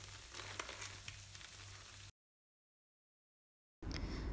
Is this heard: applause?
no